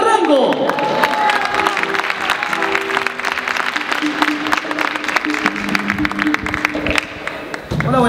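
A charity concert audience at a school gala breaks into loud, sustained applause with scattered cheers, the clapping dense and close, with voices and crowd noise mixed in before it thins near the end.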